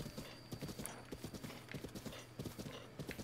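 Horses in The Legend of Zelda: Breath of the Wild trot with rhythmic clip-clop hoofbeats, steady and fairly close, at a quiet level with no clear neigh.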